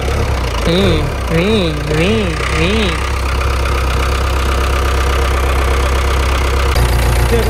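A vehicle fitted with a tractor engine idles close by with a steady, loud diesel rumble and rhythmic knock, while a voice talks over it.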